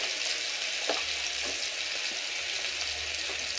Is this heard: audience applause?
no